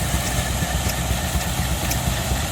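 A restored steam engine runs at an outdoor machinery show, driving a long belt for grain handling. It gives a steady, even rumble with a faint rhythmic pulse and no pauses.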